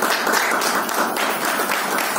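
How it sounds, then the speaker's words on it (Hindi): Loud, close audience applause at an event, with a dense wash of many hands clapping continuously and no talk over it. "उनके लिए तालियां होनी चाहिए।"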